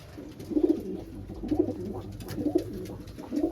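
Pigeons, including a fantail pair, coo softly from nearby baskets. Low, rolling coos repeat about once a second over a steady background hum.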